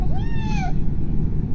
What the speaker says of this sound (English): Did you hear his meow?